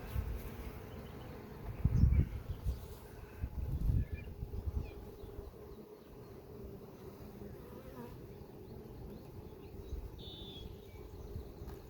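A honeybee colony buzzes steadily during a hive inspection while trying to prevent a swarm, with louder bursts of buzzing close by and a person speaking briefly in the background.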